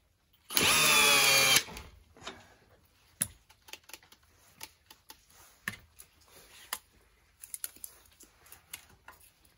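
An Einhell TE-CD Li BL cordless drill drives an 8x160 wood screw into wood in one loud, short burst, followed by quiet clicks and taps.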